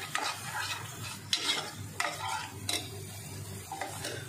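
Onion and raw coconut paste stirred and roasted in a pan for green moong dal curry: repeated scraping strokes of a spoon against the pan over a soft sizzle, close and fairly clear, with no talking.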